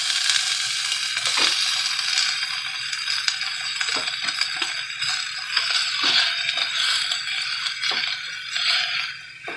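Half an onion frying in a smoking-hot pan gives a steady, dense sizzle, with occasional faint clicks and scrapes, close and continuous throughout.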